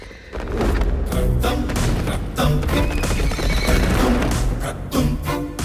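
A horse gallops and neighs in a film action scene, loud and continuous, with pounding hooves mixed under a dense, dramatic soundtrack and crashing effects.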